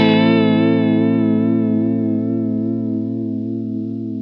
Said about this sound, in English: The BBE Mindbender, another chorus vibrato combination pedal, even says right in its manual that its vibrato mode is patterned after the VB2.